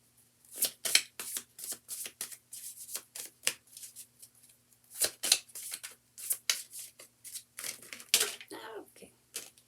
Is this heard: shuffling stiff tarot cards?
yes